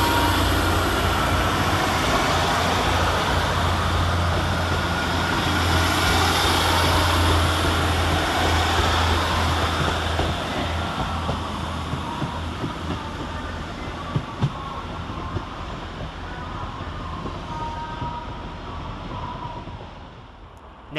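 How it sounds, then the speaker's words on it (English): Northern class 156 and 150 diesel multiple units pull out of Blackburn railway station, with a steady engine drone and rolling rumble that gradually fades as the trains move away, a few faint clanks near the end. "Next out the station is 156466 and 150-150. With the 1420 Northern service to Kirby via Todmorden and Victoria."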